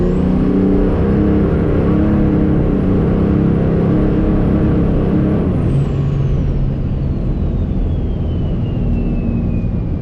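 A compound-turbo Cummins diesel two-wheel-drive truck making about 1113 horsepower rolls into the throttle, a loud, dense engine roar with a rising turbo whistle that peaks and then falls away, no voices over it.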